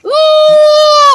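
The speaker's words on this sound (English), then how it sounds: "So I'm going to mute that so you don't have to listen to that kid scream" A child's scream in war news footage from Jordan: one loud, sustained high-pitched cry with a sharp onset, holding steady for about a second, close and unbroken.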